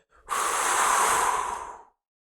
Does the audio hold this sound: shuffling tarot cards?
no